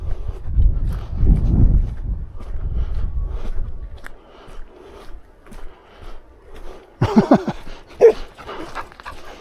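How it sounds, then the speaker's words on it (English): Puppies out on Holt Heath yap in short bursts near the end, after a stretch of rustling and low handling noise close by, with no talk over them. "There's a lot of puppies."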